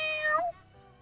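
A person, a streamer, imitates a cat with a drawn-out, rising-then-falling meow lasting about half a second, close and clear, followed by quiet room tone.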